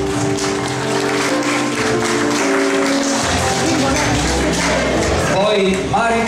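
Applause from the audience at the Miss New Look 2015 pageant proclamation, a steady crowd clapping blended with music and an announcer's voice throughout.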